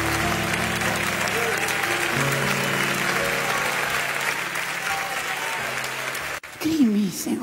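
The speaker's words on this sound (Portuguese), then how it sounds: "aplauda bem forte ao Senhor" A worship service congregation claps loudly and steadily for several seconds over sustained music, before the applause drops off abruptly and a voice begins to speak.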